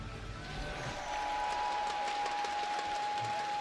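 A live esports crowd cheers and applauds for team Miracle at a Heroes of the Storm-style event, a sustained wash of clapping and shouting that swells after the first second and holds steady.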